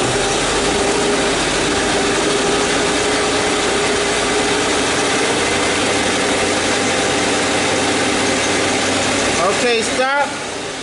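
A 2005 Chevy Tahoe with a transmission problem runs steadily while being taken through its gears, with a constant loud engine drone and some mechanical clicking, and voices briefly near the end.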